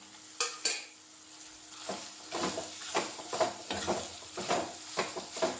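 Cut onion and green chili tipped into a pan of ginger-garlic paste for chicken curry, a couple of clattering drops followed by repeated scraping stirs over a light sizzle, close and moderately quiet.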